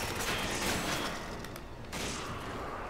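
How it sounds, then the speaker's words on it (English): Gunfire in the Resident Evil 5 game, a loud burst of rapid, crackling shots over a busy mechanical din, briefly dropping away before the noise resumes. "Maybe I can shoot his foot"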